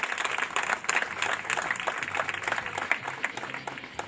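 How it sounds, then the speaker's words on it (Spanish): Sustained crowd applause at an outdoor club anniversary celebration in a plaza, a steady dense wash of clapping lasting about four seconds with faint voices mixed in. "quiero pedir un recontra re aplauso"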